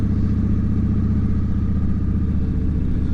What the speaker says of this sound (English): Still one of my most favorite things about riding a motorcycle is the sound of that exhaust.